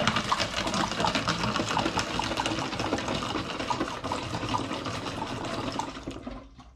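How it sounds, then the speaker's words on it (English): Pineapple juice pours steadily and gurgles through a funnel into a fermentation vessel for several seconds, then trails off as the flow stops. "starting with my pineapple juice, I'm going to pour it into the fermentation vessel"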